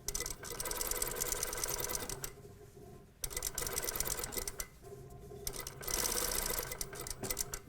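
Domestic sewing machine stitching a seam with the seam allowance and facing fed through together, running in loud continuous bursts of rapid mechanical whirring with two brief pauses between runs.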